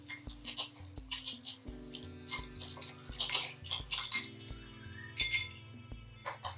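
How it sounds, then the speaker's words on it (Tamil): A spoon clinks repeatedly against a bowl while honey is stirred in, quick bright taps in irregular bursts at close range, with no one talking. "ஸோ இதில் ரெண்டுமா மிக்ஸ் பண்ணுங்க"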